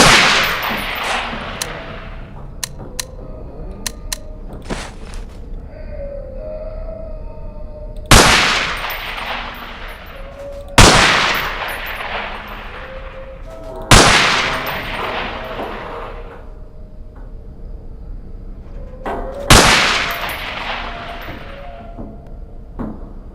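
MP5 submachine gun bursts hit pop-up targets in a shed in the game Underhell, four sharp, loud reports spaced a few seconds apart, each ringing out with a metallic decay, plus smaller clanks between them.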